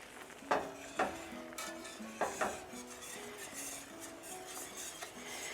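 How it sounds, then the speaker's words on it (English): Red chile being stirred in a pot: several sharp metal clinks and scrapes of a spoon against the pot over a low sizzle, close and fairly quiet, with no one speaking. "And again, just stir it in, be patient."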